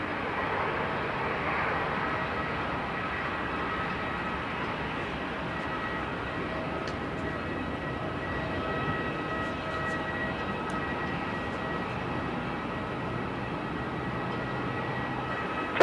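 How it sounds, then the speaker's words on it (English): A Shalman Air aircraft departing runway 34 at Melbourne Airport, a distant, steady engine roar with a broad rushing hum that stays fairly even throughout the long stretch. "Shalman Air looks to be lining up and departing now"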